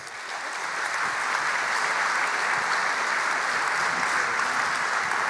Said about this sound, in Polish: Jeszcze raz gorące brawa